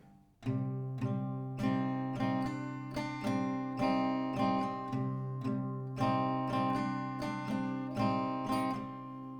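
An acoustic guitar strums a steady repeating chord pattern at a slow, even pace, played close and clear with no voices.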